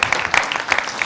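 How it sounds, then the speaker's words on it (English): Audience applause for a conference panel at the EuroDIG 2015 internet governance meeting in Sofia, a brief moderate burst of many hands clapping in a hall, with faint voices mixed in. "Can I have you clapping this panel, which make an extraordinary work?"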